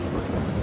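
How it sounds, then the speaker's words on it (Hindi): Heavy rain with a deep rumble of thunder, a loud, dense roar with strong low-end throughout the brief moment. "अब तो बारिश वाकई रुकने का नाम ही नहीं ले रही है"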